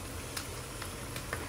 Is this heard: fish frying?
yes